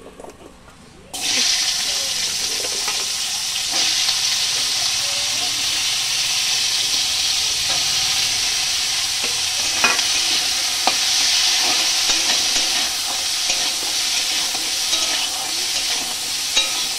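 Steady, loud sizzling of capsicum and peas frying in a pan, starting abruptly after a brief quiet moment and continuing with occasional stirring clicks.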